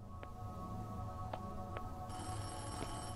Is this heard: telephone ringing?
yes